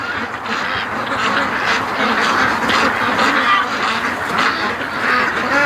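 A flock of ducks quacking steadily as they come back to their pen for the night, a dense, continuous chorus of overlapping calls close by, with a few honking notes mixed in.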